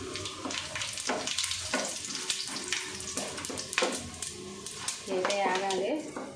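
Biryani spices fry in hot oil in a pot, crackling and sizzling up close with irregular spits and pops, quite faint overall, over faint stirring and clinks of the pan.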